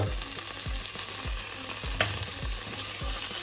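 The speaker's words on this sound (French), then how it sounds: "Je mélange bien." Red lentil dahl sizzles in a pan as tomato paste is stirred in, a steady frying crackle with regular scraping strokes of the spoon roughly every half second.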